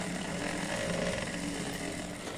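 A sewing machine stitches the waistband of a pajama, a steady continuous mechanical whir running evenly throughout without a break or voice.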